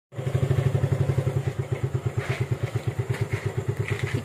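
A motorcycle engine runs with a steady, rapid thumping putter as the bike rides along, loud and close throughout with no talking over it.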